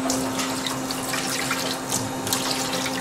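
Water pours steadily into a pan with a continuous splashing gush, fairly loud and close, with no talking.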